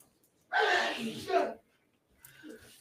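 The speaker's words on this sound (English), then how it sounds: "I don't know if you heard that sneeze." A single sharp sneeze bursts out, followed after a pause by a quieter breathy sound, close to the microphone.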